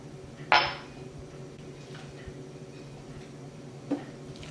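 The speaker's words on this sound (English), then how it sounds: "and then place it in my crock pot" A pork roast set down into a crock pot gives one clear ceramic clunk with a rattle, followed later by a softer knock. The kitchen is otherwise quiet.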